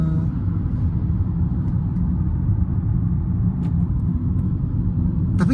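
Low, steady rumble of road and underbody noise inside a Honda Civic FD2 while driving, a constant muffled drone with a couple of faint clicks, no talk over it.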